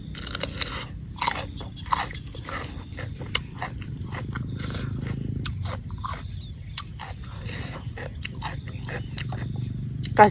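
Close, crunchy chewing of cooked freshwater snails with repeated sharp bites and cracks over a steady low background rumble.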